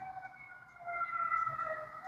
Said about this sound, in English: I'm hearing another siren in the back.